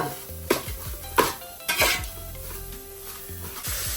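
Grated coconut roasts in a pan for Onam sambar, stirred with a metal spoon that clanks and scrapes against the pan in several sharp hits, over a soft sizzle and faint background hum.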